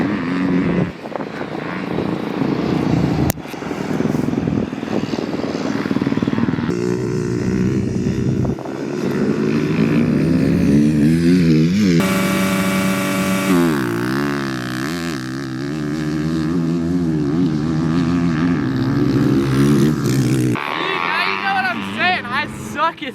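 A motocross race bike doing practice starts, its engine revving and climbing in pitch through repeated launches, fairly loud with someone talking over parts of it.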